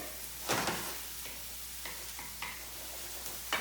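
Garlic and rainbow chard sizzle quietly in a pan, a soft steady frying hiss broken by a few scattered clicks and scrapes from a spatula.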